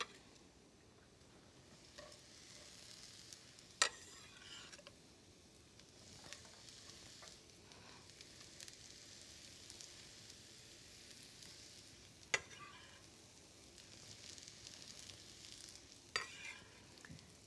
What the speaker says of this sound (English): then into the hot pan with the mushroom stems and the bacon.